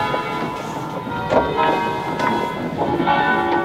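A church bell in San Giovanni Bianco, swung slowly by a chain-driven wheel, rings with a long, sustained metallic tone and repeated strikes that linger and overlap, loud and close, with no voices.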